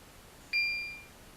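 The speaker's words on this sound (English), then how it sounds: "Okay, confirmation beep." An X10 security console gives a single clear electronic confirmation beep that rings briefly and fades over quiet background hiss.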